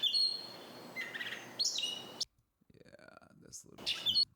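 A mockingbird sings nearby in short, varied bursts of bright chirps and whistled notes, separated by brief pauses, faint against a soft outdoor background.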